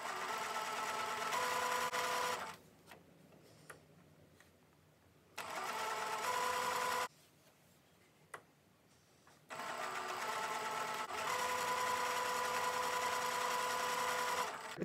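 A sewing machine runs in three steady bursts while stitching crumb quilt pieces, loud and close with a continuous whirring hum, broken by two short quiet pauses.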